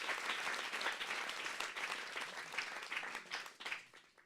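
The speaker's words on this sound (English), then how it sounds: "Again, a round of applause." A room full of people claps for a civic app challenge event's city council and city manager, sustained moderately distant applause that thins out and tapers toward the end.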